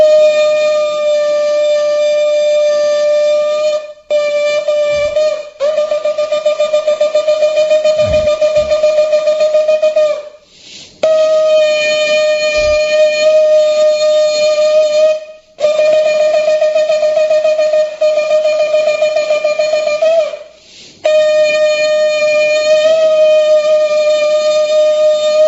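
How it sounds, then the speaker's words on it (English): A shofar, a ram's horn, sounds in long sustained blasts separated by brief pauses, loud and steady, the tone buzzy and horn-like with no voices. "This is the sound of the shofar"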